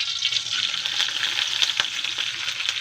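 Spices and curry leaves tempering in hot oil for a tamarind pulusu: white onion, black pepper, cumin, urad dal and a little dried red chilli, giving a steady, close, bright sizzle and crackle with no voices.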